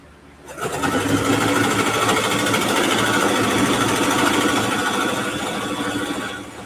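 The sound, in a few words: home sewing machine sewing a quilted backpack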